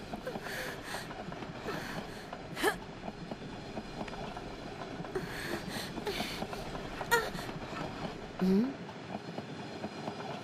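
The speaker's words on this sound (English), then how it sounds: "The villains shoot a rocket at the train, derailing it, and we get more splendidly bad sound effects." Cheap video game sound effect from Urda of a train derailing after a rocket hit, a rumbling rail clatter with scattered metallic bangs and screeches, fairly quiet, with talk running over it.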